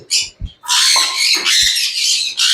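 Pigeons and other pet birds squawk loudly and harshly near at hand while being given water from a small bowl, several rough calls in quick succession with short gaps.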